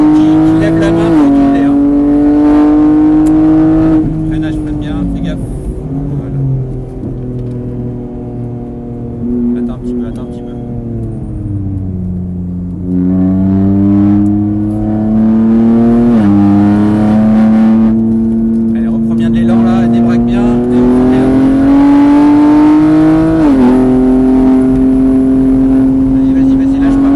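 A car accelerates and revs during a driving lesson on the Mireval track, its engine droning loud and close and rising and falling in pitch with gear changes, while an instructor talks throughout.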